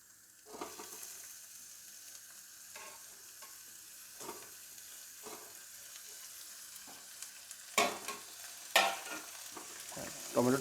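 Tomatoes added to frying onions in a pan for a home-made langar dal, sizzling steadily at low volume while a spoon stirs, with occasional louder scrapes and clinks toward the end.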